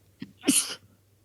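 A single close sneeze indoors, a short intake followed by a sharp burst, quiet and isolated with no talk over it.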